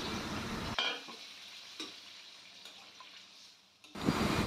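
Water poured into a pan of fried spiced potatoes sets off a loud, close burst of sizzling that drops to a quieter simmer, then flares up again at the end.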